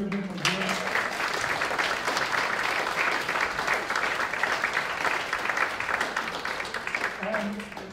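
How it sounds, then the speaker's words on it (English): Audience applause at a country jamboree, steady clapping filling the hall for several seconds, with a voice briefly heard at the start and end. "would you give them a hand?"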